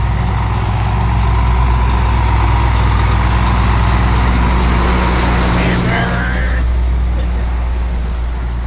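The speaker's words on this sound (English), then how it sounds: "One time for the Cisco truck." A Sysco delivery truck passes on a street during a Key West trip, heard as a constant loud road and engine rumble with traffic noise throughout, while people talk faintly over it.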